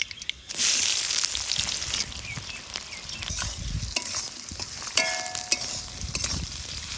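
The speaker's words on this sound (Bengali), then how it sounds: "কড়াই দিব হচ্ছে তেল, দিয়ে দিব ফোড়নে গোটা জিরা আর দুটা শুকনো লঙ্কা, দিয়ে দিব হচ্ছে পেঁয়াজ কুচি" Chopped onion hitting hot oil with whole cumin seeds and two dried red chillies, bursting into a loud, close sizzle that carries on steadily with scattered pops and stirring scrapes, no one speaking.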